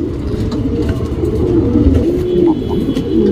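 A male Patta pigeon coos close by in low, steady, rolling tones that continue without pause for a few seconds.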